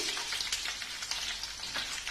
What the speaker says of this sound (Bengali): তেলের ভেতরে পেঁয়াজ কুচিটা দিয়ে দিলাম